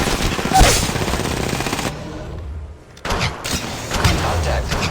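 Bursts of rapid gunfire in the video game Apex Legends, loud rattling shots that stop for about a second before firing resumes.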